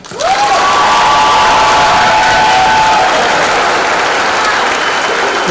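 A crowd at a 2019 Denver online high school graduation ceremony breaks into loud, sustained applause and cheering that fills the hall from start to finish.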